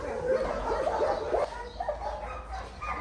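A puppy with an injured paw whimpers in thin, high whines that rise and fall over a low background hum.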